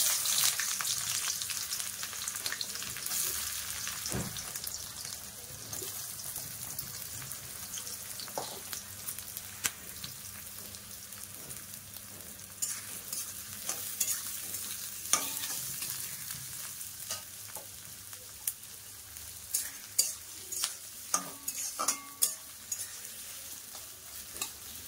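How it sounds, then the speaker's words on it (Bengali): Onions frying in hot oil give a soft, steady sizzle under occasional stirring taps and scrapes, quieter and more distant at first, with a few sharper clinks toward the end. "দেখুন বন্ধুরা, তেল গরম হয়ে গেছে। এইবারে দিয়ে দেবো পেঁয়াজ"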